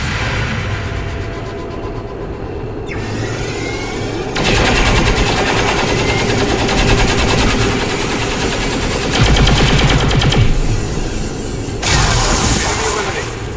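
Squad gunfire in XCOM, with repeated bursts of automatic fire and loud shots coming in several separate volleys, close and dense, over game sounds.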